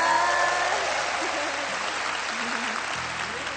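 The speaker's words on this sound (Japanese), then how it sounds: "木南さん大歓声ですね" Studio audience applause and cheering greet actress Kinami Haru as she is introduced on a television talk program; dense, steady clapping with crowd cheers throughout, loud and close.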